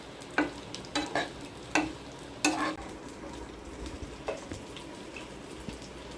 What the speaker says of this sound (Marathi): अशी भाजणी केली त्यामुळे छान भाजले गेले